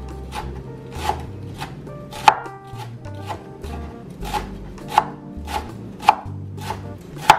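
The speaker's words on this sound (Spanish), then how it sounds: "Ahora vamos a picar nuestro perejil. Lo vamos a picar también igualmente finito" A knife chops parsley finely on a cutting board in about a dozen crisp, evenly spaced strokes, each a sharp close tap with a little scraping between them.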